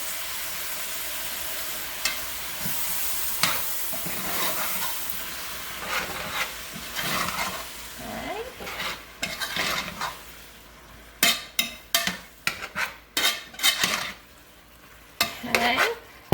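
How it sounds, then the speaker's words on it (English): Diced tomatoes fry in a pot while a spoon stirs them, giving a soft steady sizzle and hiss with a run of sharper scraping and knocking strokes against the pot toward the end, close and without talk. "I'm going to stir that around."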